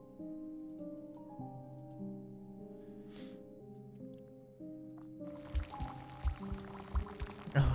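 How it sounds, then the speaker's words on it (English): Liquid from a mug is poured onto tree roots in a video game, a gurgling splash with rhythmic sloshing bursts that starts after several seconds of layered sustained musical tones. "Something changes as you pour the mug right onto its roots."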